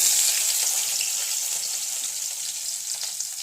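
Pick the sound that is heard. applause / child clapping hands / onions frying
onions frying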